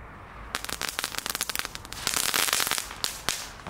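Small red novelty firecrackers bought at an Albert Heijn supermarket crackle in a rapid series of sharp pops, thickening into a dense fizzing burst before a few last cracks; close, loud and without talk.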